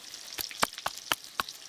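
Fish belly pieces coated in spice paste crackle and spit in hot oil in a karahi, with sharp irregular pops over a steady soft sizzle, close and fairly quiet.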